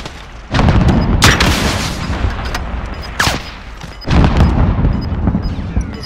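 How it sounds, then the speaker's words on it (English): A rocket launcher in a shooter game, fired as a loud whooshing blast that sets off a dense, rumbling roar, followed by a second surge of booming fire a few seconds later. "Rocket away!"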